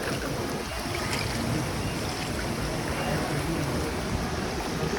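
Steady broadband rush of a flowing stream below a waterfall in tropical Sumatran forest, continuous and fairly loud with wind-like noise, no talk.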